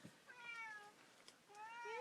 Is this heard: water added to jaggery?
no